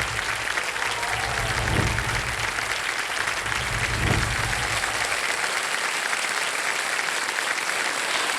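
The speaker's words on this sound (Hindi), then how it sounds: "राणा, और कोच अमोल मजुमदार जी का तालियों के साथ अभिनंदन।" A studio audience at a televised Hindi quiz show applauds for a cricket coach, loud dense clapping sustained for several seconds with no talk over it.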